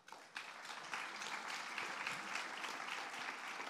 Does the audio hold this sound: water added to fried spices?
no